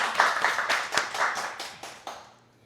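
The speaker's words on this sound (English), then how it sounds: "Let's give her a clap." A small audience claps to welcome a speaker, a short burst of distinct close hand claps that thins out and stops within a few seconds.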